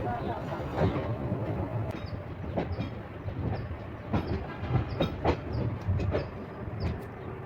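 Mettur Dam Express passenger train on the Salem to Mettur Dam line running on rails, with a steady close rumble and a regular clickety-clack of wheels over rail joints throughout.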